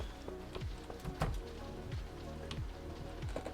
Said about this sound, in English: I love the sound of hail in this game